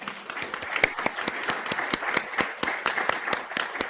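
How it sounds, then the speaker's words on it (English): An audience at a water sustainability talk bursts into applause, with dense overlapping hand claps ringing out steadily and fairly loud through the whole stretch, individual sharp claps standing out from the crowd's wash. "So if you give yourselves a round of applause"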